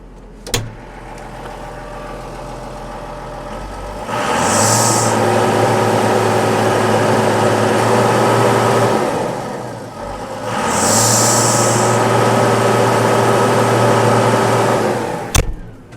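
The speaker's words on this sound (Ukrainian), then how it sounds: "Двигун працює ідеально, рівномірно, жодної вібрації нема." Renault Ares 816 RZ tractor engine running, a steady low diesel hum that rises in two sustained revving stretches with a brief dip between them, loud and close, with sharp clicks near the start and end.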